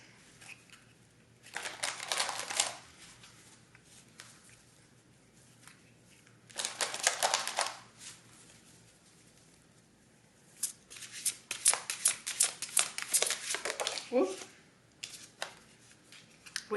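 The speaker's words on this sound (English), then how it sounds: "let's pull some oracle cards." Oracle cards being shuffled by hand come in three bursts of riffling and rustling, near and fairly quiet, separated by stretches of near-silence.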